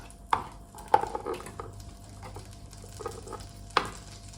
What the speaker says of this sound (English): The butter is already foaming up